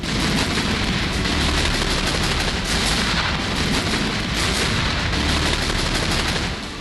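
Dense, continuous gunfire and booming blasts on a Ukraine-Russia war battlefield with tanks firing, loud and relentless with no pauses, like a battle raging nearby.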